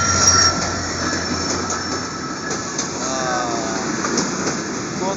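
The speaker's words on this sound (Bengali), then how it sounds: "এই যে ট্রেন চলে এসেছে" A train pulls into Jessore railway station with a loud, steady rolling rumble, high wheel squeals ringing over it as the carriages pass close by.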